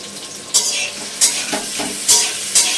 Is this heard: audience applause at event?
no